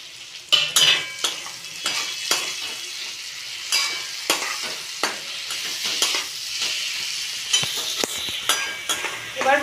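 Pointed gourd pieces frying in a hot pan with spices, stirred with a utensil: a continuous close sizzle broken by sharp scraping and clinking strokes of the spoon against the pan, with no talking.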